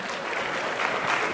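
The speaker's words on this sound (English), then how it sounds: "We can give a big applause to Christel" Audience in a congress hall at a European socialist party election event gives a round of applause, a brief, dense, steady burst of clapping at moderate volume.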